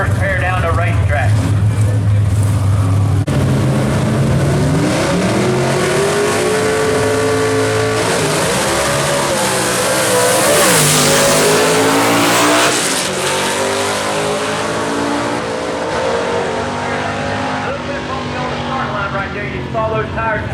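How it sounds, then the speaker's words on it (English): A 1967 Camaro and a 1966 Mustang launch side by side at a gasser drag race, loud engines roaring and revving hard with tire chatter, a commentator talking over the sustained racket throughout. "This man has no problem turning to RPMs in that beautiful 67 Camaro that he drives versus a 66 Mustang over there"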